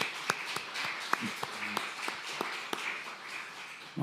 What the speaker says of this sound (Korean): 우리 청년들 위해서 격려의 박수 한 번 더 보내주시기 바랍니다